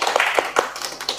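A gathering at an Islamic religious talk claps together, sharp and close, with a few distinct louder hand strikes inside a short, dense patter.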